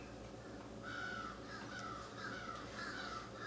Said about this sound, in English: What are with these crows outside?